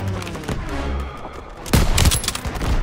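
Anti-aircraft gun fire in Call of Duty WWII, a dense burst of loud booming shots that starts partway through and rolls on over rumbling battle noise.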